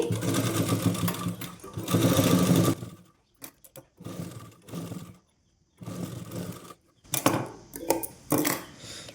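A sewing machine stitches lace trim onto a petticoat in bursts of fast, buzzing whirring, separated by short silences and small taps as the fabric is adjusted.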